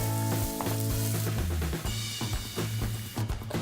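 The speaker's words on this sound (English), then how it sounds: "Let it fry for 3-4 minutes until it's yellow" Chopped onion and garlic sizzling in hot olive oil in a pan, a busy crackling hiss with bursts of stirring, heard close against background music.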